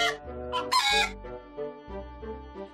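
A cartoon rooster from a Swedish children's audiobook crows loudly in a full cock-a-doodle-doo with sharp rising and falling calls, alone and close, followed by several shorter clucking notes.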